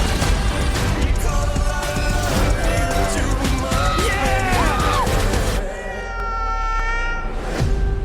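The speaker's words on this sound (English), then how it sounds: "God, I hate that cat." A cat meows loudly and insistently in a film excerpt, with several drawn-out wailing cries over busy background sound, then a quieter stretch with a sustained tone before one more cry.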